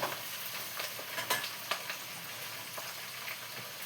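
Onions frying in tempering oil after the seasoning spices have browned, a steady close hiss of sizzling with a few louder crackles and stirring scrapes, no voices.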